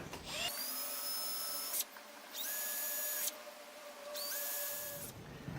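A drill bores small pilot holes into perspex sheet: a steady, loud high-pitched whine in long bursts separated by brief pauses, close and alone.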